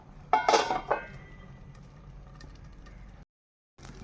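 A lid is set down over an appam pan holding freshly poured batter, giving a short metallic clatter near the start, then a soft steady hiss before a brief silence and a faint return of kitchen noise.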